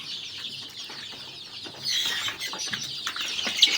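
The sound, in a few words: native chickens clucking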